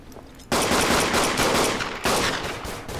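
Loud, close rapid gunfire in the World War I shooter Verdun, two sustained bursts of dense shots, the second starting after a short break.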